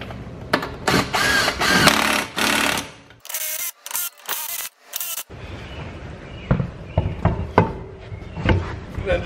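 Power tool running lug nuts onto wheel studs over wheel spacers on a car: loud, close bursts of buzzing impact-gun rattle with short gaps and clanks between runs, followed by quieter handling noises.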